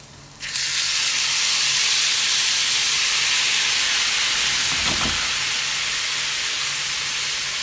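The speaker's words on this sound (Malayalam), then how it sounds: "ഇതിനകത്തേക്ക് ഞാനൊരു വളരെ കുറച്ച് ചൂടുവെള്ളം ഒഴിച്ചു കൊടുക്കുക" A small amount of hot water hits a hot pan for an avolí (pomfret) fish dish, bursting into a loud, steady sizzling hiss that holds for several seconds, with a faint clink partway through.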